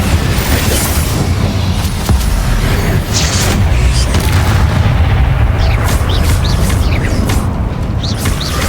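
Booming blasts from the Bombarda spell in Hogwarts Legacy roll through a loud, dense battle soundscape, with heavy low rumbles and several sharper bursts layered over constant din.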